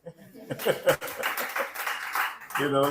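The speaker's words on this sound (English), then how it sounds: "Clap for me." An audience at a training session claps in a short burst mixed with some laughter, and a voice comes in at the end.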